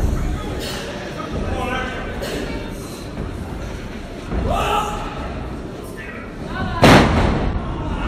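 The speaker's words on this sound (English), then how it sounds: "Big heart slam there." A wrestler's heart slam impact in the ring at an independent wrestling event, a heavy booming crash late in the sequence amid crowd noise and an announcer talking throughout.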